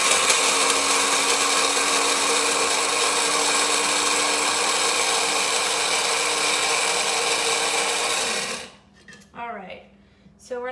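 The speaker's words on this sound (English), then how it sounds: "I've pre-poured everything into my coffee grinder" A steady, loud mechanical whir of a coffee grinder grinding raw cacao runs for about eight seconds, then cuts off, leaving quieter rustling and a brief voice.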